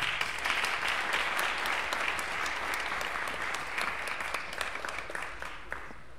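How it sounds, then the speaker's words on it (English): Church congregation giving a warm round of applause to welcome a speaker, dense sustained clapping at moderate loudness that slowly tapers toward the end. "Please give her a big round of applause."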